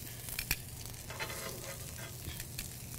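Asparagus and steak sizzle on a grill, a soft, steady hiss with occasional faint pops and taps throughout.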